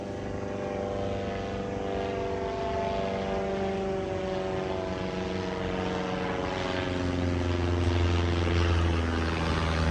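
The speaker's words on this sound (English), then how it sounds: "They have some planes ripping out here." A propeller airplane roars close overhead, loud and sustained, its droning engine tone holding steady and swelling slightly toward the end, with no talking.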